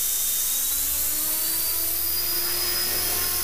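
A T-Rex RC helicopter's rotor spins up into a steady, high-pitched whine with a buzzing motor tone, its pitch slowly rising and holding close and loud throughout.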